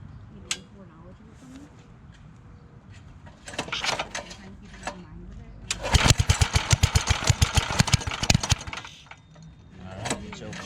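A 60mph minibike's small engine being pulled over, sputtering, then catching and running in a fast, loud popping burst for a few seconds before dying back, close by, with a brief clink at the start.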